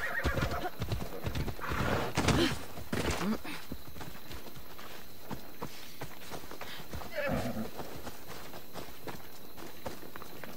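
A horse gallops in the Assassin's Creed Odyssey video game, hooves pounding in a quick, steady rhythm, with whinnies and snorts rising over them and faint voices at times.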